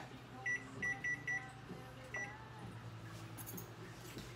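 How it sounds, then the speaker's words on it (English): A kitchen timer being set while tortilla chips bake, giving four short electronic beeps in quick succession and then one more, clear over a steady low hum of the kitchen. "Let's set that timer for 10 minutes."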